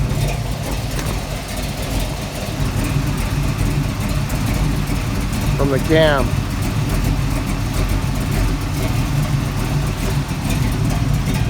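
A 1972 Chevy C10 short bed with a 454 V8 idles loudly at close range with a lumpy, rhythmic low rumble throughout, while someone briefly speaks over it midway.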